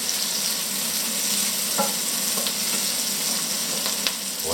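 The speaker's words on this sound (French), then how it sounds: "Là, on remue." Vegetables for a honey ratatouille frying over low heat in a pan, a steady close sizzle with a few light scraping stirs mid-way and near the end, no voices.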